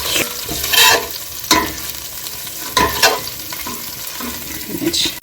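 Chicken crackles and sizzles in a hot pan while being stir-fried, with scraping and clattering of a utensil coming and going over a constant frying hiss.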